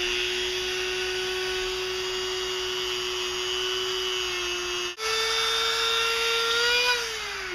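A grinding wheel takes the hard edge off a metal bail with light contact, giving a steady, loud, high whine with a brief break near the middle before the tone resumes slightly higher.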